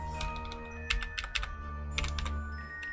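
Fast keystrokes clatter on a computer keyboard while a Dwarf Fortress stocks menu is searched, a short burst of several close, crisp taps over a steady low hum with no talking.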